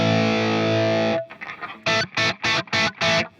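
Electric guitar through a Friedman Jose amplifier with the bright cap engaged on volume 1: a loud sustained distorted chord rings out, then a run of five evenly spaced, chopped rhythmic strums.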